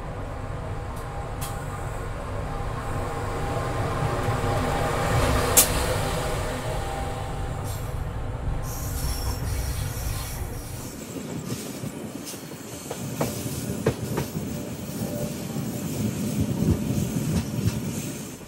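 The Kahuripan train from Blitar bound for Kiaracondong rolls past in a steady, loud rumble with wheel clatter, and a high thin squeal rises over the later part of the passage.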